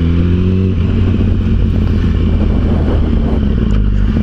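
A 2008 Yamaha R1 motorcycle on the move, its engine loud and close with a steady roar that dips and rises briefly as the rider works the throttle.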